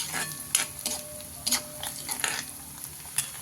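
Onions fry in a pan while being stirred, a continuous sizzle broken by scraping strokes of a utensil at an uneven pace, close and fairly loud.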